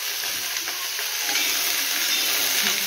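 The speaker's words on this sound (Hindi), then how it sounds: "थोड़ी तो फ्राई कर लेते हैं" Food frying in a pan gives a steady, bright, close hiss and sizzle with a few faint clinks, continuous and with no talking.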